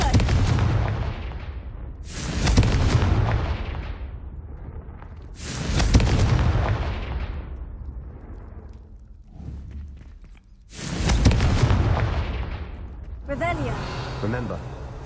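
Fiery spell blasts in the Hogwarts Legacy video game, several booming explosions a few seconds apart, each a sharp loud burst that rumbles and fades, with a crackling effect at the end.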